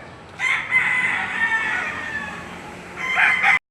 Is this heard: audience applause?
no